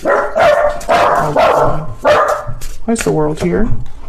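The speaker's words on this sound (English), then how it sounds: "Sorry about my dogs." Household dogs barking and yipping in a series of sharp bursts close by, mixed in with someone talking steadily over them.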